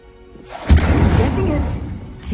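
An Incendio fire spell cast in Hogwarts Legacy, a sudden loud whoosh with a low thump that roars on steadily for over a second, close and dominant.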